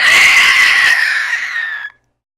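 A creature's piercing scream as it falls after a final slice in a Draenora D&D 5e fantasy campaign, loud and harsh, sustained for nearly two seconds before cutting off abruptly into silence.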